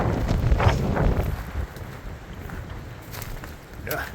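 Strong wind gusts funnel through a wash along the Continental Divide Trail during a solo thru-hike, buffeting the microphone in heavy roaring bursts that ease and return, with faint rustling and footsteps.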